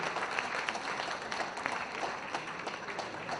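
Fairly faint, steady crowd applause rolls on at an e-governance inaugural event, dense and continuous throughout with occasional sharper individual claps.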